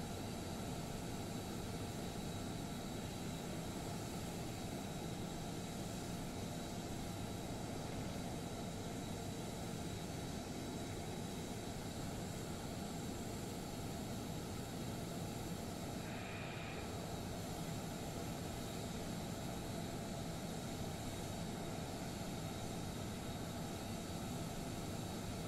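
A jet landing during an emergency approach at a small airfield in Microsoft Flight Simulator 2020, heard as a steady, broad engine roar and wind rush that holds at an even level throughout, with no talking.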